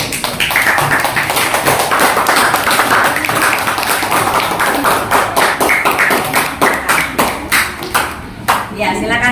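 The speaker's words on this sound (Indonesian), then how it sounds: "kita beri aplaus dulu" Classroom applause for a student group's work: sustained, fairly loud clapping from many hands for several seconds, with a voice speaking briefly over it.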